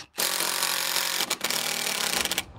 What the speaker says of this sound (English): I need to drive the screws in on an angle beside the leg that I already attached